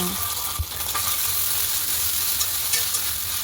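Green chillies fry and get stirred in a pan for a tomato fenugreek curry: a steady, close sizzle runs throughout, with a faint clink of a utensil near the start and no talking.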